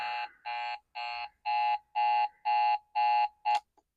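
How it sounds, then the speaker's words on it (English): A big digital alarm clock beeps close by, loud and electronic, in seven or eight evenly spaced pulses before being cut off. "the alarm is going off."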